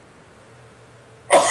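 A person sneezes once, close and loud, as a sudden sharp burst that breaks a quiet stretch of room tone at the very end.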